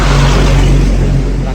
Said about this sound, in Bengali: রাত্রে গাড়িগুলো কত জোরে জোরে যাই দেখেছো।